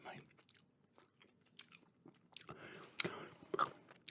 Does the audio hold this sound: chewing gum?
yes